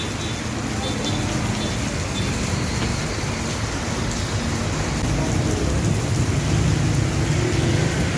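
Heavy downpour with thunder in Dalandanan, Valenzuela, a dense, loud, unbroken roar of rain hammering surfaces, with low rumbling underneath and no pauses throughout.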